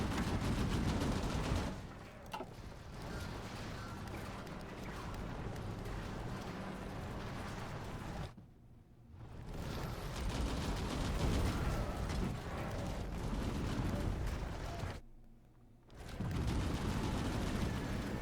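Dense, rapid gunfire from the Hearts of Iron IV strategy game, continuous crackling volleys layered with heavier booms, broken by two brief lulls before the firing resumes, with no talking.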